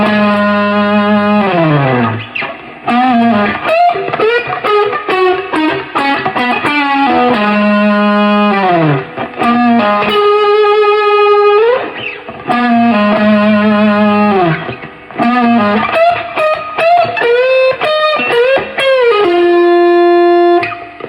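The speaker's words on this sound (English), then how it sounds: "At this point, I go then to the neck pickup, and I got full distortion on." Distorted electric guitar on the neck pickup with full distortion, playing a melodic solo line with bends and sustained notes, loud and continuous, with brief pauses between phrases.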